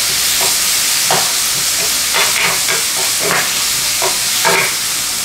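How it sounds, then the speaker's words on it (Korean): Pork frying in one or two tablespoons of oil in a pan, a steady loud sizzle and hiss with occasional louder crackling bursts as the meat cooks, no voices. "팬에 기름 한두 큰술을 좀 넣어주고 고기를 넣고 익혀주세요"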